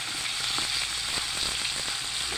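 Food frying in hot oil for mochar ghonto, a Bengali banana flower dish, with a steady close sizzle and a few faint stirring knocks, no talking.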